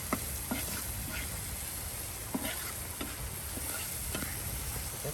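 Dried chilies fry in hot oil with a soft, steady sizzle, broken by scattered light ticks and pops of a stirring utensil in the pan.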